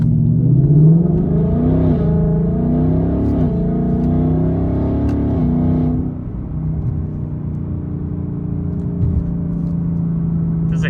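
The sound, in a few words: Ford Mustang GT exhaust while accelerating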